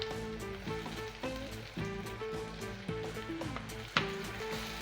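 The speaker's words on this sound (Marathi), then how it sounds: "हा मसाला आपण एक मिनिटभर परतून घेऊया" A paste of chili, ginger, garlic and coriander fries with onion in a pan for prawn masala, giving a continuous soft sizzle with occasional stirring scrapes and one sharp clink, fairly quiet and close.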